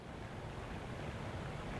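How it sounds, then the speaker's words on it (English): Storm surge waves wash against a beach seawall in Freeport, about 50 miles south of Houston, as a continuous faint rushing roar mixed with wind buffeting the microphone. "Already seeing water up against this seawall."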